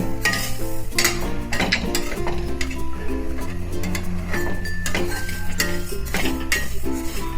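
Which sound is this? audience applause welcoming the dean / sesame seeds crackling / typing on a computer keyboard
sesame seeds crackling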